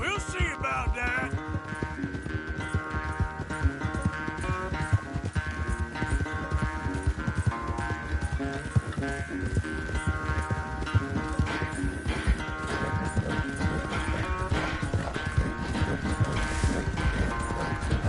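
A horse gallops at full speed during a race in Red Dead Redemption 2, its rapid hoofbeats drumming steadily and close for the whole stretch beneath a loud, sustained musical score.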